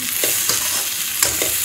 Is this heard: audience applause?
no